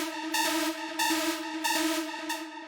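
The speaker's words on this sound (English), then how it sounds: "it's two saw waves, detuned quite a bit" Buzzy, dark analog synth lead built from two heavily detuned saw waves for hard techno, playing a short repeated phrase of sustained notes with brief gaps, bright and upfront.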